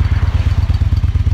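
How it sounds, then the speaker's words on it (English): An Indian Chief Vintage motorcycle engine idles with a steady, rapid low-pitched chug, close and even, with no other sounds. "that sound is Indian Chief Vintage running, so the reset code has worked."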